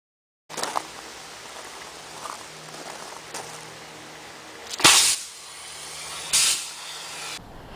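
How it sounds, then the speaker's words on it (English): A knife fitted with a CO2 cylinder releases freezing gas in sharp hissing bursts: a steady low hiss gives way to two loud, brief blasts of spray, then the hiss continues until it cuts off. "It's a knife with a CO2 cylinder to inject a huge ball of freezing gas."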